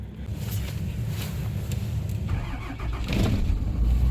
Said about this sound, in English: let's get the truck fired up and warmed up a bit